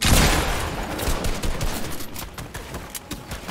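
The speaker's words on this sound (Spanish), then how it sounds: "está disparando del otro lado también" Dense, crackling gunfire from the battle royale game Fortnite, irregular shots layered into a continuous distant fusillade that runs the whole time at moderate loudness.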